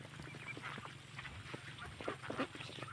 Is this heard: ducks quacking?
yes